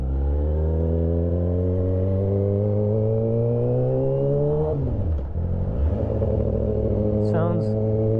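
A 2008 Yamaha R6 with a full stainless SC Project muffler and Black Widow exhaust revs up, its engine pitch climbing steadily, then dropping sharply before rising again, loud and close throughout.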